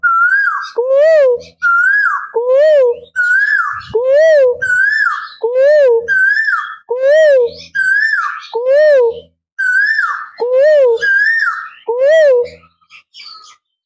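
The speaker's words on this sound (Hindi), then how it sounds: "कोयल उधर बोल रही है, दिखाइए प्रमोद जी" An Asian koel calls from nearby trees with about a dozen loud, clear, whistled notes in a steady repeating rhythm, each separated by a short silence.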